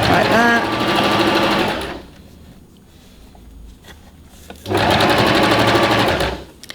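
A sewing machine stitching around the cuff of a batwing top, running in two loud, rapid, steady bursts of a couple of seconds each with a quieter pause between, close up.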